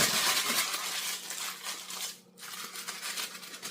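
Parchment paper for lining cookie pans crinkled by hand, a dense, continuous broadband rustle and crackle with one brief pause near the end before it resumes, close and fairly loud with no talk.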